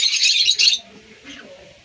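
A pet yellow bull hen chirps in a few quick high bursts close by at the start, then fades to quiet with faint background sound.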